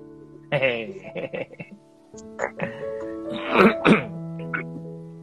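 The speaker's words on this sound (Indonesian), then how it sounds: "sampai batuk dan dehem pun jelas" Someone clears their throat and coughs a few times at close range, with voice-like sounds mixed in and a steady tonal hum underneath.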